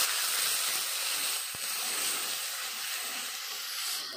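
Whole spices hitting hot oil in a pan over onions already browned and scorched, giving a steady, close, bright hiss that holds for the full stretch with no voices.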